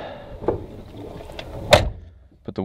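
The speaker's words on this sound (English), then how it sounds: "Close the door," A car door on a 1981 Datsun 210 SL fastback coupe shuts with one sharp, loud thunk, surrounded by softer handling and interior noises.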